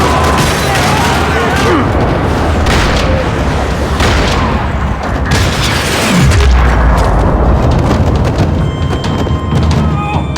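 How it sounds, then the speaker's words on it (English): Dense, continuous gunfire and booming blasts fill a parking lot shootout in the video game Max Payne 3, loud and sustained throughout with heavy low thumps and a descending whoosh midway. "Another parking lot rattling with gunfire."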